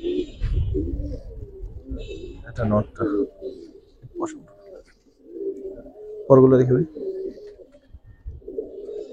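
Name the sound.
Giribaz and coloured pigeons cooing in a loft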